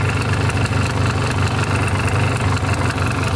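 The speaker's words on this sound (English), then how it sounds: "I think that rattly here is the exhaust right here. The mount for it's broken right there." A two-stroke ATV project idles with its exhaust rattling from a broken mount. The engine runs in a continuous, loud, close drone with a buzzy metallic chatter laid over it.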